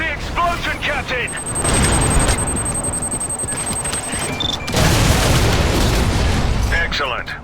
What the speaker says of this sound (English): Plant the explosives on the AA battery and stand back. Get clear of the explosion, Captain!